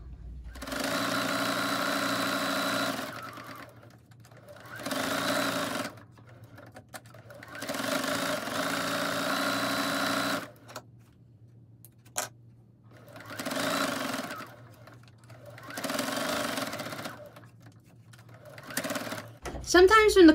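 A sewing machine top stitches a fabric cup cozy in repeated bursts of a few seconds each, a close, even mechanical whir that stops and restarts between short pauses, with no talking.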